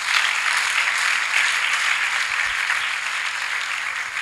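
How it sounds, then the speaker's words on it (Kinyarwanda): An audience at a testimony gathering applauds steadily and loudly, with dense, continuous clapping that holds for the whole stretch. "mumuha amashyi."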